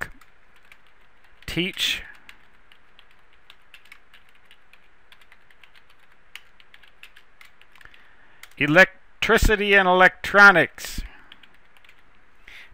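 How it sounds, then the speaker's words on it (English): Bursts of typing on a computer keyboard, a short flurry early and a longer run of rapid clicks near the end, close and clear with someone talking over it. "Typing and talking at the same time"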